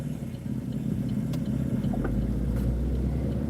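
A motorcycle engine drones steadily on a quiet rural road near the Ohio border, with fields on both sides, heard as a continuous low rumble from a moving car without a clear approach or fade.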